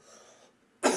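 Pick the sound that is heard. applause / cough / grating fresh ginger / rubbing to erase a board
cough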